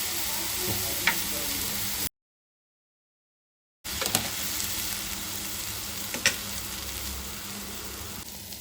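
Masala of coriander leaves and turmeric frying in a pan for guntha pongalu batter, a steady soft sizzle with occasional stirring clicks, broken by a brief silent gap partway through.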